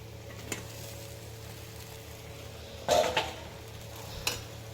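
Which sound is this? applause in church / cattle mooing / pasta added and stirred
pasta added and stirred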